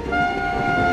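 Cartoon train arriving, with a steady two-tone train horn toot held over low rumbling running noise, clear and close.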